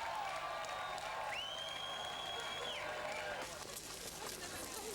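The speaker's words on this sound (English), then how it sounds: "the crowd shout ecstatically, "We're coming."" A large crowd in West Berlin at the Berlin Wall shouts and cheers ecstatically in a steady, dense roar, with a whistle-like tone rising above the din partway through.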